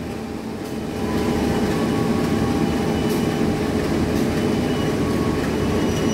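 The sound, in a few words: Singosari economy train passing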